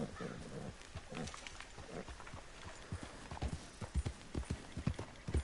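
A horse's hooves clip-clopping in Red Dead Redemption 2, a steady run of close hoofbeats that gets louder and heavier toward the end.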